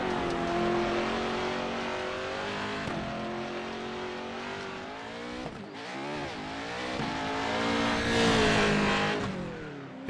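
Pro 4 racing truck engines in a racing video game roar loud and continuous, revving up and down through gear changes, with a rising surge near the end and no voices.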